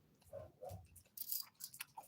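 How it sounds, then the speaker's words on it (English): Close, quiet chewing and nibbling on a crisp chocolate wafer bar, a few soft crunches and bites in short bursts, no talking. "I'm doing a gentle nibble around the wafer."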